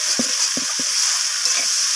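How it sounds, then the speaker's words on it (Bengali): Vegetable chorchori of knol-khol, flat beans and eggplant being sautéed in rohu fish oil, with a steady close sizzle and three quick scraping spatula strokes early on, then softer stirring, no voices. "বেশ কিছুক্ষণ সময় ধরে এইভাবে কষিয়ে নিতে হবে।"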